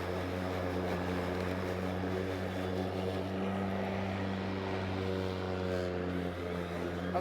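Battery-powered self-propelled lawn mowers, a Makita XGT 40V Max and an Ego Select Cut 21-inch, cutting grass with the motor ramping up; a steady, close, continuous motor drone with a humming tone runs throughout, with no talking.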